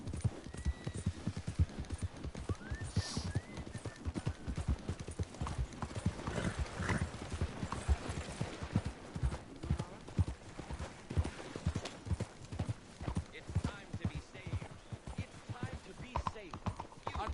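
Horse hooves clip-clop steadily in a video game, a continuous rhythmic trotting close by, with an occasional whinny and faint game voices beneath.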